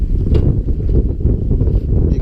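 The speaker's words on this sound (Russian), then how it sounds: "хотя вот сильный ветер идет." Strong wind ahead of a storm roars steadily and loudly against the microphone out on the water on a fishing trip, a dense low rumble that never lets up.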